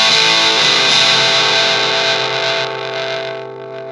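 Electric guitar through an Electro Harmonix Satisfaction Plus fuzz pedal in norm mode with all knobs at noon and the volume turned up, one thick buzzing chord ringing out loud and alone, then slowly decaying.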